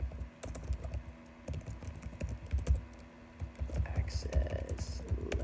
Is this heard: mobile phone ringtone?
no